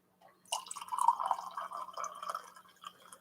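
Coffee poured into a cup, a soft trickling, dripping liquid stream that starts abruptly and keeps running steadily at close range with no talk over it.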